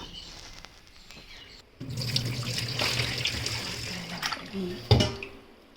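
Water runs and splashes as soaking water is poured off rice in a kitchen, a steady faucet-like stream with a few sharp clatters and a louder splash near the end, a voice faintly present.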